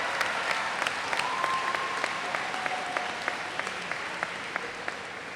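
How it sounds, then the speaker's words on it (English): Audience at a school convocation applauding faculty, staff and honored guests, a steady wash of many hands clapping at moderate distance, with a few sharper claps standing out, continuing without a break. "Let's give them a round of applause."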